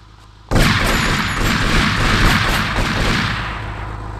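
Gunfire erupts in GTA Vice City during a fight with police: after a brief quiet moment a loud, sustained burst of rapid shots and booming blasts starts suddenly and continues densely, close and powerful, with no talking.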